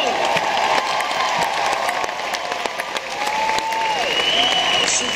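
Concert audience at a rock show in Fort Myers, Florida applauding and cheering, a dense, sustained roar of clapping with whistles and shouts throughout, loud and continuous.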